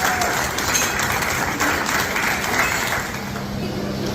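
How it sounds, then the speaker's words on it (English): An audience at a concert applauds its judging panel, a dense, even wash of clapping heard from within the crowd that holds steady for several seconds and eases slightly near the end. "Give them a big round of applause"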